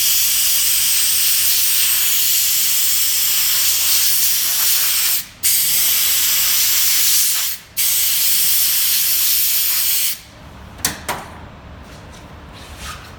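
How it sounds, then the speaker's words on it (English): An air nozzle gently blows excess separator off a dental model in a lab, a steady loud hiss with two brief pauses, then shorter bursts and clicks near the end, no talk. "we're gonna go over to the air nozzle and we're gonna gently spray the excess away."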